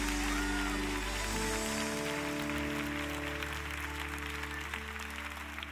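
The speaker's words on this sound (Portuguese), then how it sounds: "Vamos aplaudir mais uma vez." A church congregation claps during a service, moderately faint, sustained applause over a low sustained tone that continues through the whole stretch.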